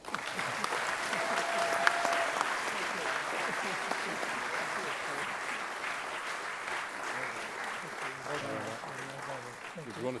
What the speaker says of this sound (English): Please join me in congratulating these two community champions by giving them your applause.